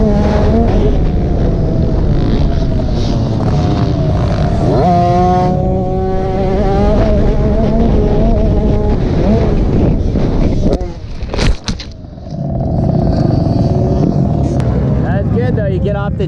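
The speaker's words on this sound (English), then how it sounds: "there's a lot of bikes on the track" Several motocross bikes race around a track at Pala Raceway, engines droning loudly and continuously with rising and falling revs, heavy wind buffeting on the microphone and a brief dropout near the end; speech is mixed in.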